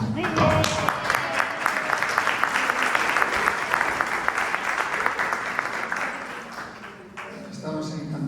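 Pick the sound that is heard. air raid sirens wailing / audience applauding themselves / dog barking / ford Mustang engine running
audience applauding themselves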